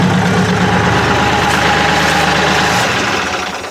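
A Kioti CK series tractor engine idles with a steady, loud diesel rumble close by, then winds down and fades as it shuts off near the end.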